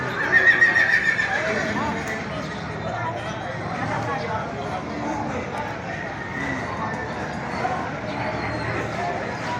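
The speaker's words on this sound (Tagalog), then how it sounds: "ito naman yung mga kabayo ng mga pangalagain" A horse neighs loudly near the start, then hooves clop and a crowd murmurs steadily in the background of a busy outdoor livestock market.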